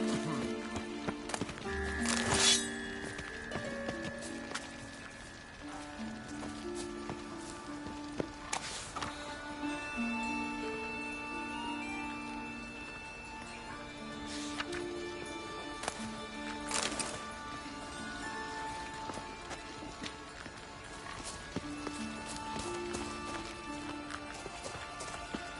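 Horse hooves galloping in The Witcher 3: a continuous rhythmic clip-clop of hoofbeats, moderately close, under music and occasional game sounds, with no talk.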